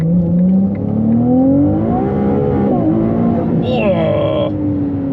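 A Ferrari on the Autobahn accelerating hard in automatic qualifying mode, its loud engine note climbing in pitch and dropping at each gear shift, with a high whine near the end, close and steady.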